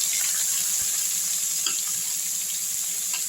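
Grated onion and curry leaves frying in oil over a low flame, giving a steady fine hiss with a few soft pops and spoon taps close by, with no talk.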